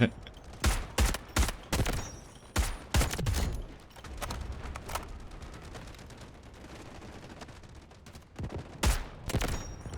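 Rapid gunfire in the shooter video game Delta Force Hawk Ops: sharp, loud shots in quick bursts of two and three, then a quieter stretch of scattered shots before another close burst near the end.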